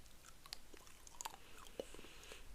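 Close, crunchy chewing in a French ASMR face-care roleplay, with scattered crisp bites and crackles spread across a quiet, steady background and no talk.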